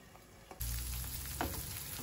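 Peppers softening in a covered pan for a sausage and vegetable omelette give a steady close sizzle that jumps louder partway through, with a brief clatter near the start and no talking.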